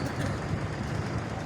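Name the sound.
48 Down Rehman Baba Express train approaching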